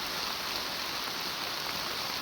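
Heavy rain pounding on a newly built field hut, a dense, steady hiss of downpour, loud and unbroken, with no voices.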